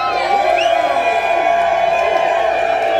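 A crowd at the Summer Jam music event yells, screams and cheers loudly, a dense roar of voices with whoops and shouts rising over one another.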